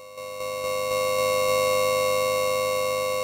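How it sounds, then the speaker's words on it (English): A steady, high buzzing drum-synth tone from a Nord Drum 3P, its gritty, distorted edge from sample reduction, holding sustained and fairly loud with faint rhythmic pulses underneath, no reverb. "I wanted to have this high fuzzy sound that doesn't necessarily sound so tonal"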